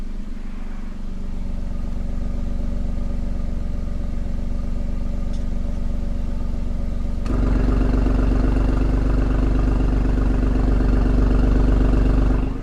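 A 2018 Alfa Romeo Stelvio Quadrifoglio idles with its exhaust valves closed, a steady low rumble with a smooth drone. Partway through, the note jumps to a louder, deeper, fuller level and holds there to the end.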